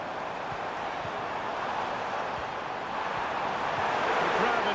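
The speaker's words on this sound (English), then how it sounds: "The crowd encouraging him to take it on." Football stadium crowd in the EA FC 25 video game, a steady broad roar of spectators that swells slightly toward the end, with faint commentary voices over it.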